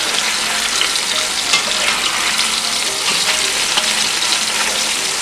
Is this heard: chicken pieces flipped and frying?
yes